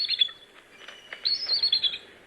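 Bald eagle calls in the open, a string of thin, high squeaky chirps and twitters in two bursts, like a creaking door, moderately loud and alone with no talking.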